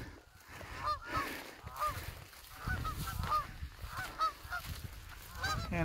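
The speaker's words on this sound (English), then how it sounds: "So many geese." A large flock of geese honks continuously on a hillside in North Canterbury, New Zealand, with many overlapping calls at a moderate distance, some louder bursts among a steady chorus.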